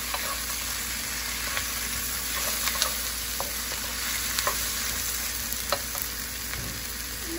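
Garlic, ginger and mushrooms sizzle steadily in a pan for a teriyaki stir fry, with an even close hiss and occasional sharp pops and crackles, no voices.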